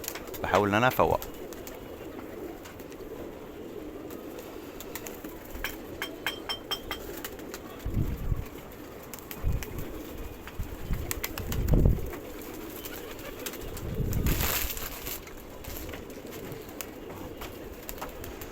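Pigeons coo softly off and on over a steady outdoor background, with a few louder bursts and rustles mixed in.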